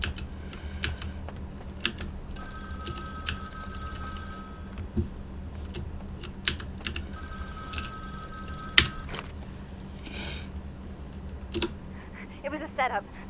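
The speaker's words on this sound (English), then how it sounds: "phone's ringing, so..." A telephone rings in Vampire The Masquerade: Bloodlines, two long electronic trills repeating at a steady pace over a low ambient game hum, with brief clicks and a short voice near the end.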